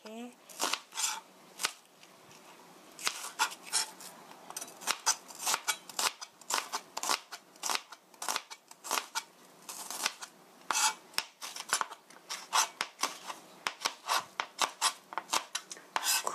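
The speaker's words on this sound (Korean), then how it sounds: "양파도 오늘은 스파게티 면에 같이 해야 되니까 이렇게 얇게 슬라이스 해주세요" Knife slicing onion thinly on a cutting board for vegetable spaghetti, rapid crisp chopping taps in quick irregular runs, close and fairly quiet.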